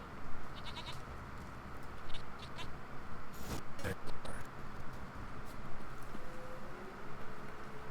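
A goat bleating in the video game The Witcher 3: several short bleats rise over low rural ambience at moderate distance, with hooves or steps shuffling and a voice speaking faintly at times.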